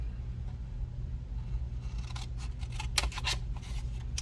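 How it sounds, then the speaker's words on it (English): Scissors cut along a score line of a paper giftbox shaped like a Polaroid camera, a series of close, crisp snips and slicing crunches over a low steady background hum. "Cut on that score line right up to that first score line right there."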